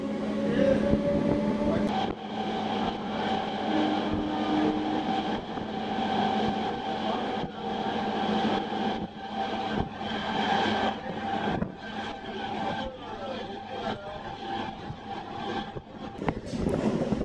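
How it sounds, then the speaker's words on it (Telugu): MEMU electric commuter train leaving Kolakaluru station, a steady onboard rumble with rhythmic clanks of wheels over rail joints, heard from inside the carriage. "కోలకలూరు నుంచి మన ట్రైన్ బయలుదేరింది"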